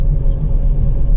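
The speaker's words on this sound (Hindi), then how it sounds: "अब ये गाड़ी मैं अपनी आगे लेके चल रहा हूँ" A car rolls through dense Jim Corbett forest at night, its engine a steady, loud, close low rumble throughout with no other sounds on top.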